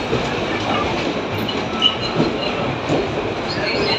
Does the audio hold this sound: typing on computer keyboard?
no